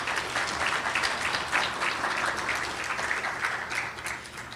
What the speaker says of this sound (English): Let's give them a round of applause once again,